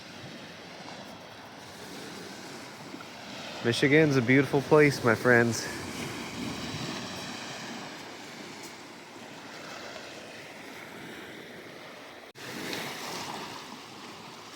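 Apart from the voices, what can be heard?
Lake Michigan waves on the beach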